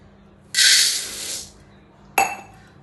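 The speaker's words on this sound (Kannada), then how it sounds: "1 ಲೋಟ ಅಕ್ಕಿ ಹಾಕ್ತೀನಿ." A cup of dry rice pours into a bowl with a bright, hissing rattle lasting about a second, then a single sharp clink as the cup knocks the bowl, close and clear in a quiet kitchen.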